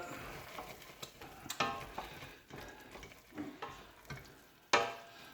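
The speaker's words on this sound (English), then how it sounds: "Give that a stir." Risotto with chorizo, mushrooms and grated Parmigiano is stirred in a pan: soft scraping strokes and occasional sharp utensil clinks rise over a quiet background sizzle.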